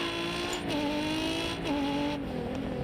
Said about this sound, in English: You see how it rev matches and just holds it?